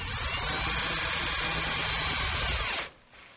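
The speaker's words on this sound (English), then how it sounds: "Line them up, and I secure everything with 1 5/8" screws." A power drill drives screws into the wood of a homemade router table, a steady high whirring whine held for almost three seconds before it abruptly stops.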